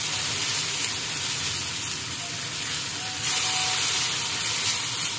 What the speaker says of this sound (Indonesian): Nah, ini ditumis sampai wangi.